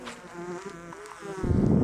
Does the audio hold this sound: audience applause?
no